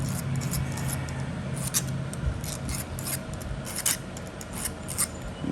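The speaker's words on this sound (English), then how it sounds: "Need to sharpen my nail again." A copper nail punch used for flintknapping being sharpened, scraped in short repeated rasping strokes against an abrasive surface, close and fairly loud with no voices.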